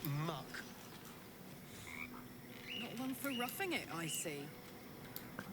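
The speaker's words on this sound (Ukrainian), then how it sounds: "Кваки квакають." Frogs croak in the video game Baldur's Gate III: a chorus of chirpy, warbling croaks that builds in the middle and then fades, with someone talking over them.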